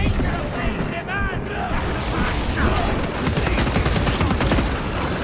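Rapid bursts of gunfire from a Warhammer 40k video game battle, dense and continuous throughout with crackling impacts layered in the mix.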